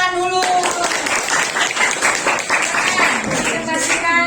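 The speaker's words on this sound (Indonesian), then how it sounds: "Tepuk tangan dulu." Classroom students clap for a classmate about to present, a lively round of close, bright clapping that starts after a brief tone and fades near the end, with voices mixed in.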